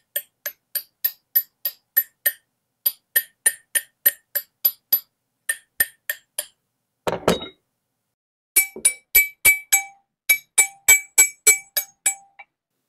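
Bicycle crank arms from a crankset being tapped to compare their ring: a run of bright, metallic clinks in quick, even groups, one dull knock midway, then more ringing taps, close and alone with no talk.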